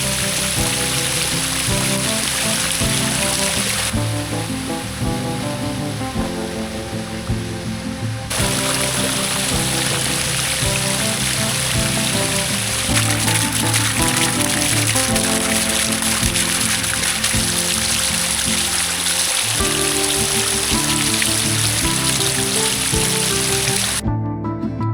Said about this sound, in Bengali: একটু ভালো করে জলের আওয়াজটা শোনো